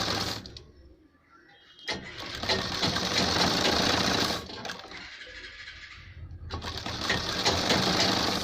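A sewing machine stitching a ladies' kurta: a steady, whirring run of rapid needle strokes that pauses briefly, then resumes and continues at an even pace, close and clear.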